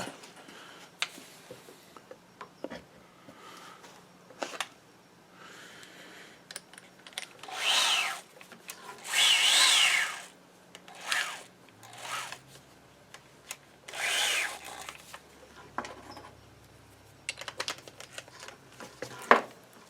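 Fine lapping compound worked against the crown of an HW90 air rifle barrel, giving a few separate bursts of gritty rubbing and grinding at moderate loudness, with quieter handling noises in between and no talking.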